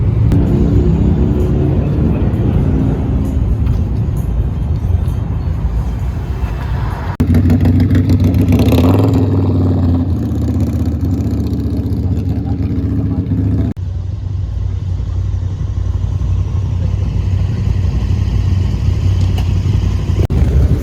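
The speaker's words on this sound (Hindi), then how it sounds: "ये है हार्ले डेविडसन फैट बॉय" A Harley-Davidson Fat Boy motorcycle engine rumbles loud and close in Kuwait, rising into a heavier revving surge midway before settling back to a steady deep idle, with no voices.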